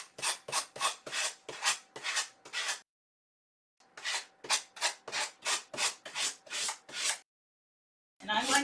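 Sandpaper rubs along the edges of a paper heart in quick rasping strokes, two close bursts of about six to eight swipes each with a short pause between and a final stroke starting at the end.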